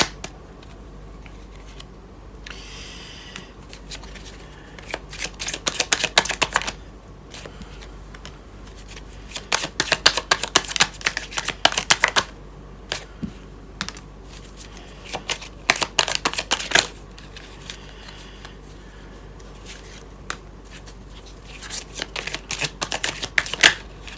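Oracle cards shuffled by hand during a card reading, in repeated bursts of crisp riffling and slapping separated by short pauses, close and alone with no talk.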